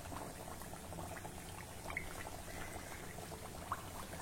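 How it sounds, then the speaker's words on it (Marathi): Matar kachoris frying in hot oil over a low flame, a soft continuous bubbling fizz with occasional small pops, steady and close throughout. "एका वेळी तेलात सहज मावतील एवढ्या कचोऱ्या घाला।"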